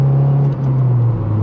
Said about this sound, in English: the full race exhaust.